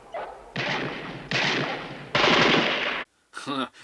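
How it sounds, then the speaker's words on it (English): Three long, loud bursts of rapid machine-gun fire, close and harsh, separated by short pauses, followed by a brief voice at the end. "That's the sound of Santa eating bullets"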